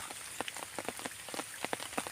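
Rain falls at a fishing spot, tapping and pattering irregularly on nearby surfaces in a fairly close, moderately loud stream of drops, with no one talking.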